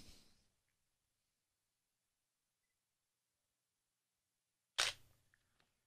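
A single crisp camera shutter click sounds once after a long stretch of near silence, with a faint click at the very start.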